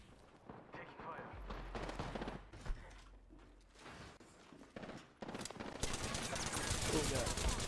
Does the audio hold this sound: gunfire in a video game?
yes